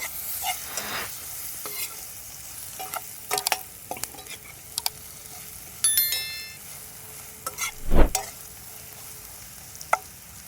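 Ground coriander and a pinch of turmeric powder are sautéed in a pan for a chicken curry: a soft, low sizzle with intermittent spoon scrapes and light metallic clinks, close and unhurried.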